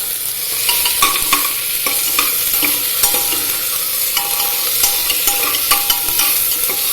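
Onions frying and being stirred with a small slotted spoon in a pot for capsicum potato pulao, a continuous bright sizzle punctuated by regular clicks and scrapes of the utensil, close up.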